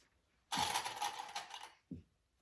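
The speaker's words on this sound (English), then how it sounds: "we're basting it together just like that" A sewing machine bastes the front and back of a backpack together in one short, fast run of stitching lasting about a second, followed by a brief mechanical clunk, close and quiet with no talk.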